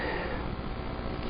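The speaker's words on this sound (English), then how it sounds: "What you hear are actually bubbles in a toilet." Bubbles gurgling in a toilet's water, a dense, steady bubbling wash with no clear individual pops, recorded close and heard alone for the sound of the game Myst.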